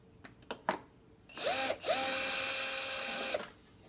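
A power drill backs out the screws of a hoverboard during a battery replacement: a few short clicks and handling knocks, then two close, loud whirring runs separated by a brief pause, the second holding steady for over a second.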